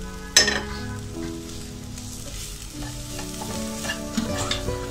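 Masala sautéing in a pan with chopped coriander and mint leaves for Irani pola: a steady loud sizzle with continuous stirring and a sharp utensil clank at the start.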